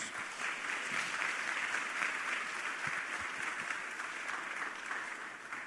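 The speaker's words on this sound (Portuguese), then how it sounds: "Agora dá um aplauso para Jesus." A church congregation applauding during a sermon, with dense, even clapping sustained throughout at moderate volume and no voices over it.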